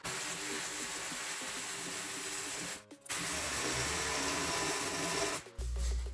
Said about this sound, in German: rausgesägt ist das Ganze